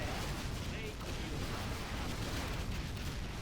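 Units in C&C Zero Hour fire continuously at a GLA building, making a steady, dense roar of gunfire and explosions with no clear breaks. Speech can be heard beneath it.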